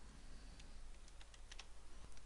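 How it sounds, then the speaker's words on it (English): Quiet typing on a computer keyboard during software setup, a handful of light, separate key clicks in an irregular rhythm over a low steady background hum. "pressing button INS on keyboard"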